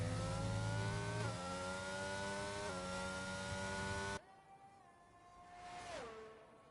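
Racing engine of a McLaren Formula car in F1 22 at Bahrain, a loud steady high-revving whine with rich harmonics, then cutting to a quieter passing pitch that sweeps down as it goes by.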